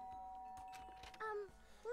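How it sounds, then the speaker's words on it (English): A doorbell chime in the video game Danganronpa rings out as a short bright two-tone ding-dong over quiet background game ambience, with a faint voice at the start. "I guess I should press the doorbell."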